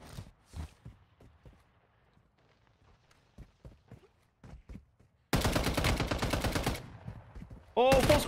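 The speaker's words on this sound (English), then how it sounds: "there's a bunch of gunfights over here" Intense bursts of automatic gunfire from a Warzone Mobile firefight crackle loudly in rapid volleys, first a long sustained stretch and then another burst, after quieter scattered footsteps and muffled movement.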